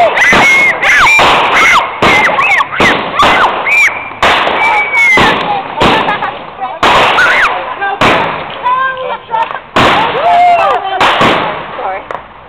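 Backyard Fourth of July fireworks burst and crackle in rapid, irregular succession nearby, with whistling launches and sharp pops, while people talk and call out between the blasts.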